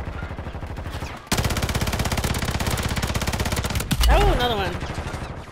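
Rapid sustained automatic gunfire from a multiplayer shooter game, loud and continuous for several seconds, with a brief burst just before it and a voice speaking over the end of the volley.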